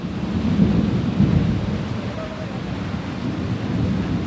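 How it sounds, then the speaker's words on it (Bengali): Heavy rain pours outside with thunder, a dense, steady roar with a deep rumbling underneath that swells and fades throughout. "বাইরে প্রচণ্ড বৃষ্টি হচ্ছে"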